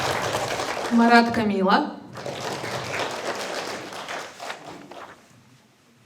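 Audience applause at a ceremony in Pavlodar where names are announced, a broad patter of clapping carrying on beneath a voice reading out names and slowly fading.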